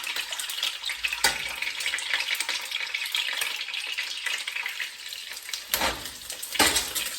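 Skinless egg tokwa fries in hot oil, a close, continuous sizzle with occasional sharper crackling bursts and spatters rising above the steady hiss.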